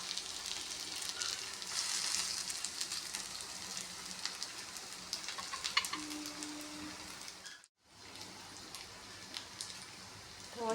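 Taro root (colocasia) pieces fry in a pan with a steady, close sizzle and crackle, broken by a brief near-silent gap partway through before the frying noise resumes at the same level.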